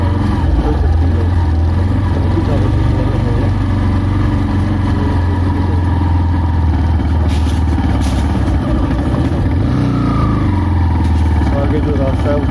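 A motorcycle engine drones steadily and loudly while the bike is ridden along a narrow mountain road in Uttarakhand, with speech faintly audible over the engine noise.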